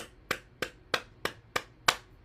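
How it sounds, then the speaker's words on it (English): Six sharp hand claps in a steady, evenly spaced rhythm, fairly close and alone in a quiet room, performed as part of a gentle morning body-tapping exercise routine. "Clapping."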